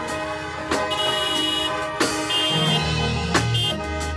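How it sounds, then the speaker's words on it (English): Several car horns honk over one another at a church service, sustained blasts and short toots overlapping at moderate distance, a steady chorus of honking. "go ahead and honk your horns and give God some praise."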